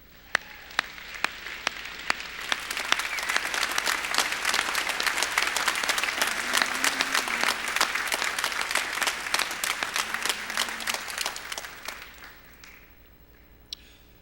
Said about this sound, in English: I invite the audience to join me in a round of applause for SCF's finest